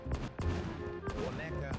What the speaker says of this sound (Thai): เสียงยิงปืนสุดอีพิกนี่มันอะไรกัน